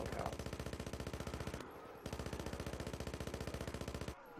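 Rapid automatic gunfire in Call of Duty Black Ops 3 zombies mode, fast rhythmic bursts with two short breaks, loud and close, no talk over it.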